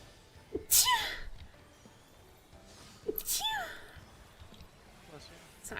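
Two loud, close sneezes a couple of seconds apart, each with a sharp burst and a falling vocal tail, over faint background noise.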